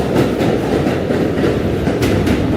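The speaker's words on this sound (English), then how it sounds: "B-train's on the other side right now, going the other way." A New York City subway B train runs past on the far track of a Manhattan line, a loud, steady rumble with clattering wheels that holds for the whole stretch.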